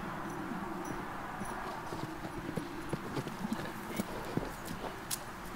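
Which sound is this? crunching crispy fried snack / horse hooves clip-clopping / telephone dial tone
horse hooves clip-clopping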